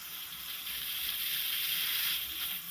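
Fried brinjal being stirred with spices in a pan, a faint, steady hiss of sizzling oil with soft scraping, quiet and continuous.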